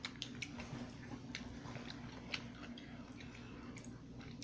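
Close, crunchy chewing of a very spicy pickle, a run of small crisp bites and squishy mastication ticks repeating steadily over a low background hum.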